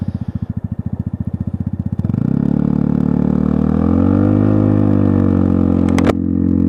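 A Lexmoto Milano 125 motorcycle fitted with a Lextek exhaust, heard close up: a loud, even single-cylinder chug at idle that lifts into a steady, slightly rising drone, then cuts off with a brief sharp click near the end.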